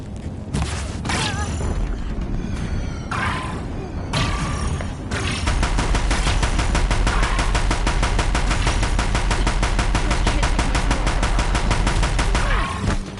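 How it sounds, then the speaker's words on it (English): Deathbringer war machines in Horizon Zero Dawn fire their guns in a loud, sustained barrage, with heavy booms early on giving way to dense, continuous rapid-fire bursts at close range. "If the Deathbringers keep firing, this bridge will go."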